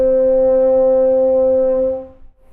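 A single sustained open G played on French horn without valves, a steady low brass tone with even harmonics held for about two seconds before fading out alone.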